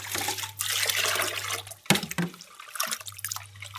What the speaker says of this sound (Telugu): ఓన్లీ వాటర్ పెట్టి కడిగేస్తాం అన్నమాట